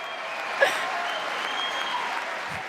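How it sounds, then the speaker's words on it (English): Applause fills the US House chamber, a dense, steady clatter of many hands clapping at moderate distance with a brief louder spike, sustained throughout. "Just the half people clapping will never get old"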